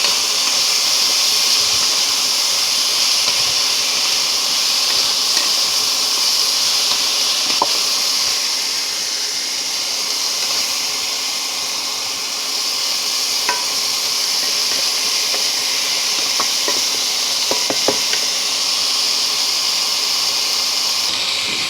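Mixed vegetables seasoned with salt and turmeric fry in a pan for panchmishali torkari, giving a steady, loud sizzling hiss with a few faint clicks of stirring and no voices.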